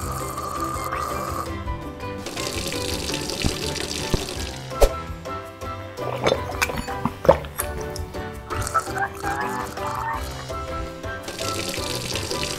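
Tap water runs into a bathroom sink during tooth brushing, with a steady splashing stream broken by a few sharp drips and clinks, set against background music.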